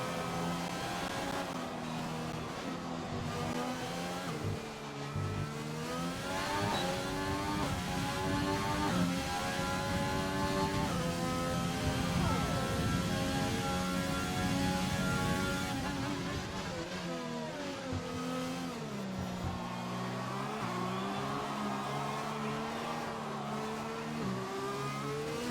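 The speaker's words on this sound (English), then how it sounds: "we have Gibby starting his hot lap" Race car engine in a racing video game during a hot lap at the Hanoi circuit, revving continuously through rising and falling gear sweeps, loud and sustained with brief dips at shifts and no talk.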